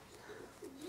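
A racing pigeon, a female back in poor condition, gives a faint, soft low coo, quiet and close with no talk over it.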